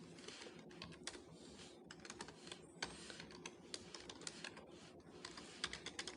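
Quiet, steady clicking of computer keyboard keys as code is typed, close by and faint, with irregular bursts of keystrokes and no talking.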